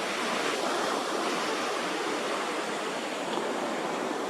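Ocean surf at the Cherry Grove Fishing Pier in North Myrtle Beach, South Carolina, a steady, even wash of breaking waves with no distinct individual crashes, heard alone at moderate level.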